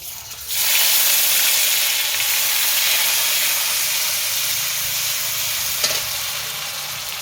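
Bay leaf and chopped onion dropped into hot oil for chicken curry, a sudden loud hiss bursting in after a quiet start, then a strong steady sizzle with one stirring clink, close up and alone.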